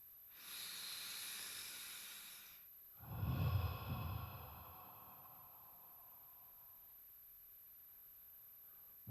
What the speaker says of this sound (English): just breathing together for a few moments